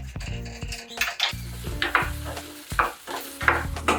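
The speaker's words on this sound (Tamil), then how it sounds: "இப்போ வெண்டைக்காய் ஒரு பக்கம் அப்படியே வதங்கட்டுங்க." Okra sautéing in oil in a pan, close and fairly loud, with a soft sizzle under repeated clinks and scrapes of a spoon stirring against the pan in an irregular rhythm, no talking.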